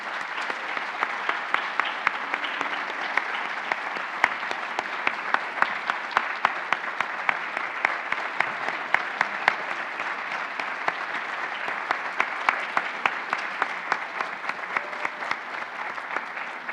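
An audience at the YMCA of Southern Maine's 2018 annual community awards event gives a sustained round of applause, dense and steady for about seventeen seconds with no speech over it.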